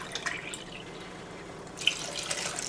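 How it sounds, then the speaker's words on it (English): A cup of water pours into a pot of bulgur pilaf with noodles, soft splashing and trickling at moderate volume that swells again near the end, with no voices. "We're going to do 4 cups of water."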